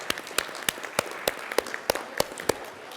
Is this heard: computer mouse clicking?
no